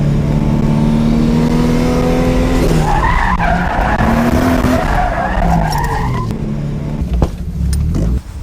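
A car drifts and spins out in mud, its engine revving loud and close with shifting pitch, wheels spinning and skidding, the roar surging mid-way then dropping off near the end.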